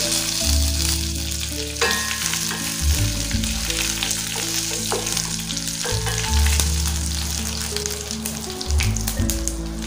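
Dried red chillies and curry leaves frying in hot oil after mustard seeds pop, a loud continuous crackling sizzle with occasional stirring scrapes, no talking.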